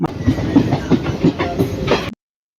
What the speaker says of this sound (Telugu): కోవెలకుంట్ల నుంచి మనము ట్రైన్‌లో ట్రావెల్ చేస్తున్నాం